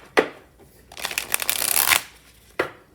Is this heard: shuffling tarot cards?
yes